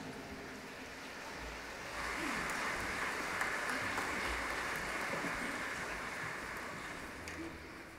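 Audience applause for a mixed choir at an outdoor evening park concert, a steady wash of clapping from a crowd that swells after a couple of seconds and holds, heard at a moderate distance.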